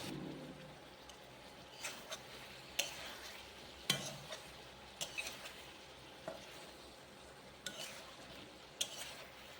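Food cooks in a pan with a quiet, steady sizzle while a utensil stirs and scrapes at regular intervals, the soft clicks and knocks fairly close.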